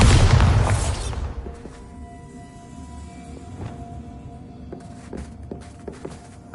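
A Bombarda blasting spell explodes in the Hogwarts Legacy video game: a loud, close boom opens and rolls away over about a second, leaving a low rumble with scattered faint thumps and clicks.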